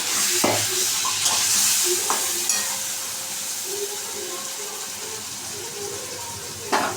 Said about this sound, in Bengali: এবার আস্তে আস্তে কমিয়ে কষাতে হবে।